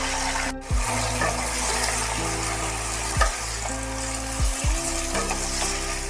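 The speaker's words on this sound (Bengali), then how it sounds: "এইবার তেলের মধ্যে দিয়ে দিচ্ছি কেটে রাখা টমেটোগুলো।" Chopped tomatoes for tomato chutney fry in hot oil, a steady close sizzle running throughout with a few louder bursts and stirring scrapes, no voices.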